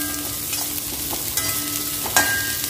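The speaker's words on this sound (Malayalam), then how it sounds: "ഒരു അല്പം എണ്ണ ഒഴിച്ചിട്ട് അതിലേക്ക് സവാള ഇട്ടൊന്ന് ചെറുതായിട്ടൊന്ന് വഴറ്റിയാൽ മതി." Onions sautéing in a little oil for a Kerala-style chicken curry, stirred in the pan, with a steady close sizzle and occasional scraping knocks of the spoon.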